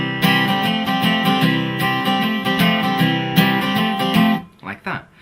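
Acoustic guitar picks out the simple two-chord main melody of a song in a steady rhythm, bright and close, ringing on alone before a brief softer tail.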